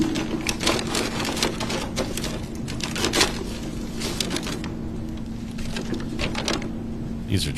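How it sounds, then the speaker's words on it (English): Scissors snip through paper held right against a microphone in a courtroom, a rapid run of close, crisp cutting clicks with brief pauses, fairly quiet and mostly free of talk. "we can hear the scissors and the paper"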